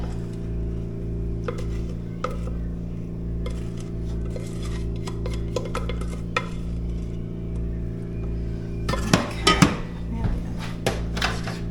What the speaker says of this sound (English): just keep stirring it. Get it all coated.